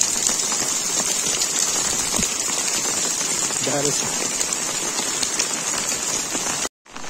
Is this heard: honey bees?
no